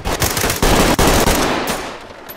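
Gunfire in the video game Ready Or Not during a cultist raid, loud close automatic bursts of sharp cracks in rapid succession, then a ringing decay as the shooting stops.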